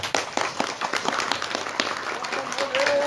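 Audience applause in a pesantren gathering addressed before members of parliament: scattered claps across the whole stretch at a steady level, with a faint voice or tone near the end.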